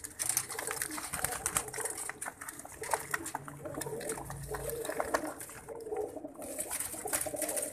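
Domestic breeder pigeons, including green and lakha-shaded varieties, coo softly in a low, steady murmur under continuous loft background noise, with no clear talking.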